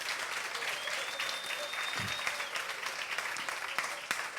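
A congregation applauds steadily in thanks during a church sermon, a dense, continuous clapping that fills the whole stretch at moderate distance, with no speech over it.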